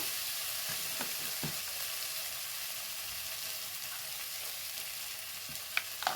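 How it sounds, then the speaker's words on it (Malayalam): Curry leaves and turmeric powder sauté in a hot pan for a coconut-milk prawn curry, giving a steady, close sizzle with a few faint stirring knocks. "ഇതെല്ലാം കൂടെ ഒന്ന് വഴറ്റിയെടുക്കാം കരുവേപ്പില ഇട്ട് കൊടുക്കട്ടെ"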